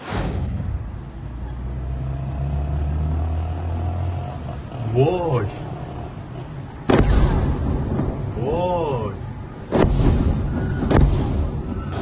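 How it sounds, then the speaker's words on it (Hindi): Several sharp blasts from strikes on Iran go off one after another over a steady background rumble, with voices heard between them. "एक के बाद एक धमाके, एक के बाद एक धमाके।"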